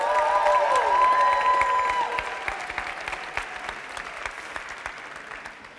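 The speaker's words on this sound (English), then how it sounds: "One more applause, please." Audience at a life science talk contest breaks into applause with some cheering, opening loud alongside a sustained musical tone, then thinning into scattered claps that gradually fade.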